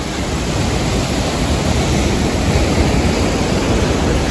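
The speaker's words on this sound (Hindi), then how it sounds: "कुंड बांडा वाटरफॉल।" Kund Banda waterfall in Kumrat Valley, a steady, loud broadband roar of falling water that holds evenly throughout with no pauses and no voices.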